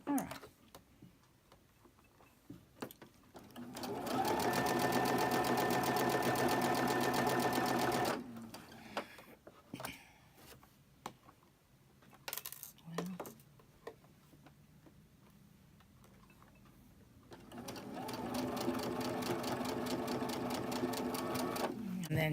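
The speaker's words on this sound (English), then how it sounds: "And then just chain stitch them." A sewing machine chain stitches cotton fabric in two long steady bursts of rapid mechanical whirring and ticking, separated by a quieter gap with handling clicks and brief sounds.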